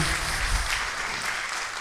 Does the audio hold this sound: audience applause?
yes